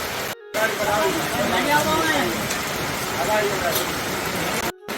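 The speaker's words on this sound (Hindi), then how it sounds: "बारिश जो है रुकने का नाम नहीं ले रही भाई" Heavy monsoon rain pours steadily on a tarpaulin shelter beside a farm field, a dense continuous hiss of drops that fills the whole clip.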